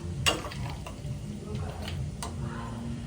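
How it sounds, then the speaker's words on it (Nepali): Meat curry with a little potato frying in a pan, a soft steady sizzle with light scraping stirs and a few small clicks, heard quietly with no clear talk. "मैले चाहिँ बसालिसकेँ, अब यसलाई भुट्दैछु।"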